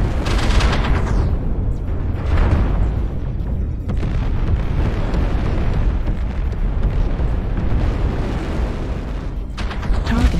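Video game missile explosion destroying a target, a sustained rumbling blast that fills the whole stretch loudly, with bursts of roar near the start and again toward the end.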